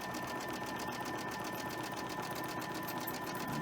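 A sewing machine chain-stitches cotton quilt block pieces in one steady, even hum with a fast stitching rhythm, close by and on its own with no voices.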